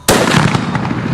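A single loud, sharp gunshot fired outdoors while hunting coyotes, a sudden close crack followed by a brief rolling echo.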